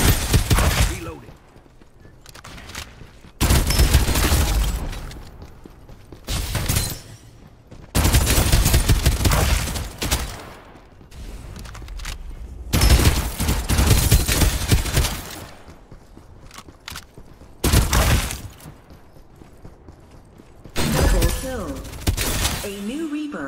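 Weapon fire in the battle royale shooter Farlight 84, loud bursts of automatic gunfire and shattering impacts repeating in clusters across the clip, separated by short quieter gaps.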